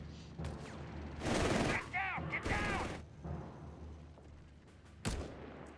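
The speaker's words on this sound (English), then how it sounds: "catch around for them with MD-42 just blasting away" An MG42 machine gun fires in Company of Heroes 3, sustained bursts of rapid gunfire with booming hits amid battle noise, fairly quiet overall, with a caster talking over parts of it.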